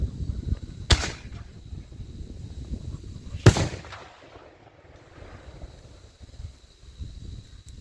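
An 8-inch Loco firework shell fires and bursts outdoors, two sharp loud booms a few seconds apart followed by a fading crackling tail, no voices.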